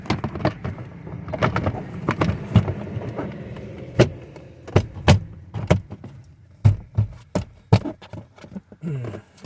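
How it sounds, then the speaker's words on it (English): Plastic interior trim on an Infiniti FX35 being pushed back into place inside the cabin, giving a series of sharp, close clicks and knocks with brief scraping and rustling between them, no talking. "I'm going to push this plastic trim back up in here first"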